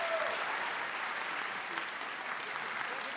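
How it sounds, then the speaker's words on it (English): An audience at a Pacific University College of Optometry ceremony gives a round of applause to an honored doctor: full, continuous clapping filling the room for several seconds without letting up. "Please join me in a round of applause as we thank Dr. Horn for his service to Pacific"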